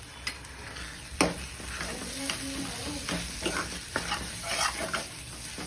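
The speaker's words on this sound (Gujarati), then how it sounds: "અને સારી રીતના બધું મિક્સ કરી લઈશું." Ginger-garlic paste and spices frying in a kadai for chole, with a continuous close sizzle and repeated clinks and scrapes of a spoon stirring against the metal pan.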